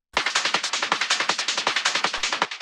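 A fast, steady Schranz rave percussion loop of sharp noisy hits repeating at an even rapid rhythm, loud and dry, with no voices.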